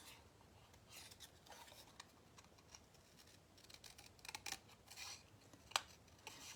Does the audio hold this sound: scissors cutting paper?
yes